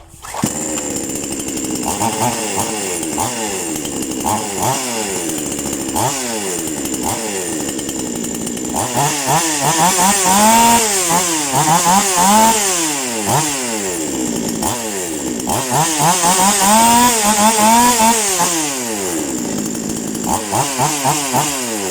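Black Bull 58 chainsaw engine running after tuning, revving up and down repeatedly in rising and falling whines, loud and close throughout.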